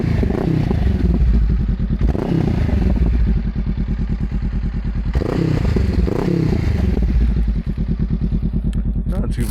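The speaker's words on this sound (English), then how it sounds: "I just want to get some audio of the bike and the ride" A Honda Rebel 500 motorcycle with a slip-on exhaust rumbles loudly and steadily up close, its rapid throbbing pulse rising and falling as the bike is ridden.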